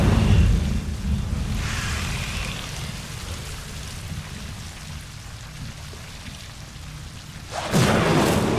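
Incendio fire spell cast in a Harry Potter video game: a loud roaring whoosh opens the clip, a steady rushing, crackling burn follows, and a second fiery burst flares near the end.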